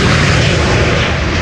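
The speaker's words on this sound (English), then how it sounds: "American Airlines Flight 221 to Dallas-Fort Worth, Texas, 7878 Dreamliner" An American Airlines Boeing 787-8 Dreamliner takes off from runway 36L at Amsterdam Schiphol bound for Dallas, its jet engines a loud, dense, continuous roar in a brief burst.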